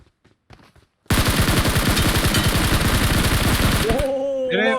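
Gunfire in PUBG Mobile: after a few faint sounds, a loud rapid automatic burst rattles for about three seconds, then stops as a voice speaks over the game audio.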